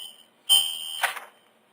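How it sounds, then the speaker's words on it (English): During a court first-appearance hearing, a high, steady electronic beep tone sounds, then a louder burst of beeping with rustling noise, close and distinct. "Is that from you guys at the jail? That beeping?"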